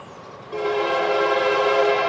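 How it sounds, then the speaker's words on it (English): A train sounds its horn nearby, a steady loud tone starting abruptly and holding, with rail noise underneath. "Any chance that train's not going to disrupt us?"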